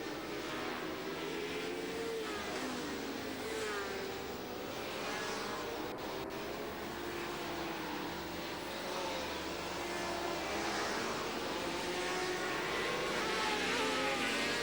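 Superbike motorcycles race near the end of a 30-lap event at the Braga circuit, a continuous loud engine roar with rising and falling tones as bikes pass, steady throughout without clear speech.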